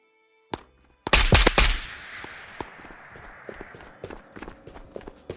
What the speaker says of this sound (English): That's someone else shooting me though? Or is that the bot?